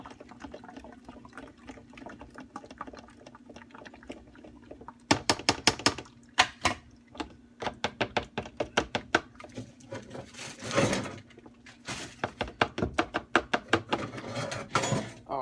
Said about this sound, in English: straining the juice.